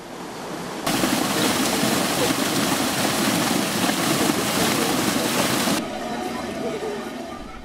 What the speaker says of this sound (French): un moulin à orge est encore actionné par la rivière